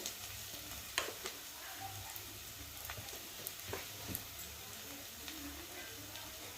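Spice paste with salt, cumin and coriander powder being stirred in a pan for rohu fish chops, a soft low sizzle with scattered scraping and tapping of the spoon, fairly quiet.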